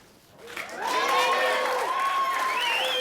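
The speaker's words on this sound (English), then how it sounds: "Bellande just lost the chip lead, but he still applauds Jennifer's last play." At a 2005 WSOP Circuit no-limit hold'em championship table in Las Vegas, a crowd swells into loud applause and cheering after a winning hand, with shouting voices mixed into the sustained clapping.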